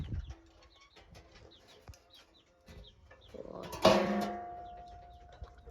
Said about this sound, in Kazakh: Іште вообще балапандар жүр.